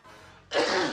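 A single sudden sneeze bursts out after a brief quiet stretch, loud and close, cutting sharply through the room.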